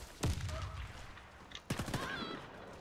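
P226 pistol firing in a video game, two sharp, loud bursts of gunfire about a second and a half apart, each trailing into clattering echoes over steady in-game background noise.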